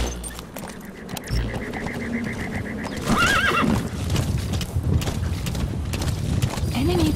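In the video game Metal Gear Solid V, a horse whinnies loudly near the middle and hooves clip-clop steadily throughout, mixed with game ambience and someone speaking Spanish over it.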